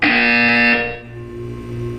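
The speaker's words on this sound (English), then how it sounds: "When you hear the buzzer, look up at the ceiling." A loud harsh electronic buzzer from the Portal 2 video game blares close up for under a second, then fades into a low droning hum with no talk.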